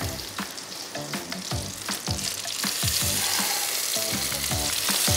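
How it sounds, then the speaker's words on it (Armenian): Tomatoes fry in a pan on a kitchen stove with a continuous, close sizzle that builds slightly in loudness, dotted with sharp popping and spattering clicks throughout, and no voices. "լոլիկը տապակում ենք։"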